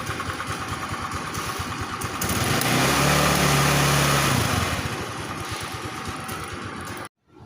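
A Rapid 150 motorcycle engine idles steadily after a push-button start, close by, with a low throbbing pulse that swells louder for a couple of seconds before settling back and cutting off near the end; no talk.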